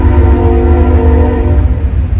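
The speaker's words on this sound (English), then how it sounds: "hear the train going by in the background" A train rolls past in the background near a rural metalsmithing spot in Oklahoma, a steady low rumble with faint tonal hum, continuous and moderately loud throughout with no talk.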